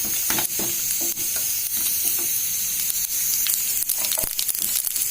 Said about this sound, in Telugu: చిప్పట్లాడే వరకు ఫ్రై చేసుకోవాలి.